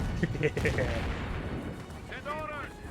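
Gunfire in a Company of Heroes 1 battle between Panzer Elite and British forces as Grenadiers come under fire: rapid cracking shots and bursts ring out under a commentator's continuous talk.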